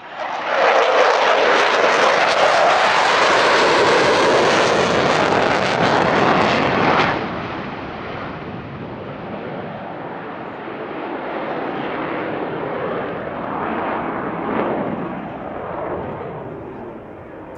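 A Dassault Rafale M naval fighter jet flies an airshow display at Paris-Villaroche in afterburner, a loud roaring rumble that peaks as it passes, then fades into a sustained distant drone.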